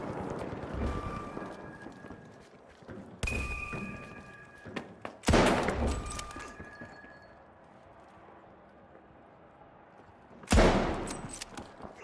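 Explosions in a video game hit as several loud, sharp broadband blasts, each followed by a decaying rumble and ringing tones, spaced a few seconds apart with quieter game noise between them.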